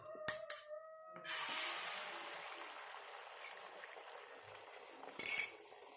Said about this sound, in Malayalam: ഗ്ലാസ്സിൽ വെച്ചിട്ട് ഇങ്ങനെ അടിച്ചു നോക്കുക